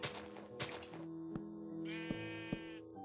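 Sheep bleating in the survival video game Lost Island Survival, several close, loud bleats over a steady in-game ambient drone, with sharp game clicks in between.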